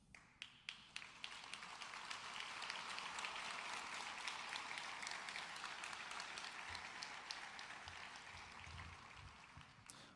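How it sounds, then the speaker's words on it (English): Audience applause after a speech, a continuous wash of many hands clapping heard at a distance and fairly faint, with a few sharper claps standing out at the start. "Although it is nice to be applauded."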